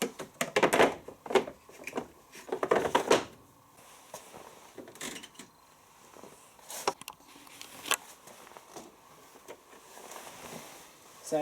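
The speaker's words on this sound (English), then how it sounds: "I'm going to take the filter out from the door here as well." Clicks, knocks and plastic clunks come from the door of a Zanussi ZDC37200 7kg condenser dryer as its lint filter is pulled out, several sharp handling sounds with quieter rattles in between.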